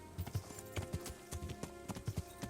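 Horse hooves clip-clop steadily at a riding pace on a road in the medieval video game Kingdom Come: Deliverance, with a rhythmic close thudding over faint background game ambience.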